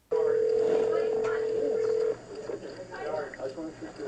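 A recorded police phone call opens with a steady, loud dial tone that runs for about two seconds. Faint background murmur and call noise follow.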